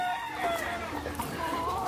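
Rooster and hens at a cockfighting breeders' yard, a rooster's crow rising over steady nearby clucking and chicken calls, with a constant background hum and no talk.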